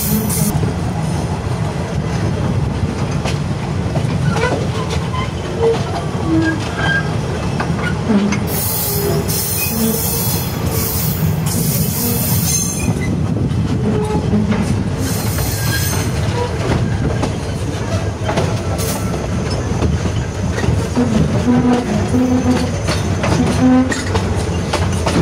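An old train runs on rails in Thailand, a loud, continuous rumble of wheels with rhythmic clickety-clack over rail joints and bursts of high metallic wheel squeal, heard up close from on board.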